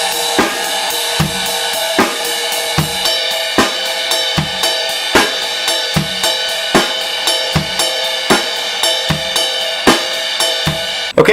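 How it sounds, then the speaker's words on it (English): A close, loud drum kit plays a 6/8 pattern with tip and bell strokes alternating on the ride cymbal. Crisp cymbal pings repeat in a lilting rhythm over regular kick and snare hits for about eleven seconds, with no voices. "Just start with the tip instead, and it's going to sound like this."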